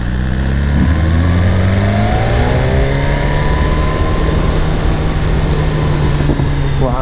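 A 2018 BMW S1000RR motorcycle runs with a loud, close engine and exhaust drone, its pitch sweeping steadily upward as the revs climb, with no one talking.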